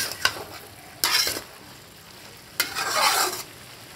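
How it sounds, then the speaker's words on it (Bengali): Papaya, potato and soybean curry frying in a pan with dry chilli and cumin: a low sizzle broken by two loud bursts of stirring and scraping. "আমি পেঁপে আলু সয়াবিনের তরকারিটা বসিয়ে দিয়েছি"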